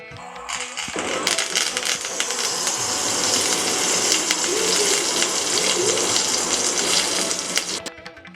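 Curry leaves and spices such as asafoetida crackle and sizzle in hot oil while tempering for homestyle tomato rasam, a loud, steady frying hiss starting abruptly after a second and running to the end.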